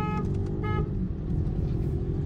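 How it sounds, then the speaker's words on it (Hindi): Heavy road traffic in Sialkot, with a steady engine rumble and a couple of short car horn toots near the start, close and loud. "ये रश है जी सियालकोट के अंदर"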